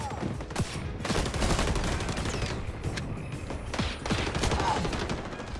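Rapid gunfire rattles in the shooter game XDefiant, dense bursts of automatic shots continuing throughout at close range with no speech over them.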